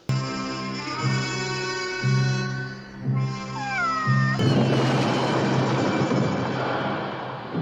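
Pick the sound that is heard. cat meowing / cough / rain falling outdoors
cat meowing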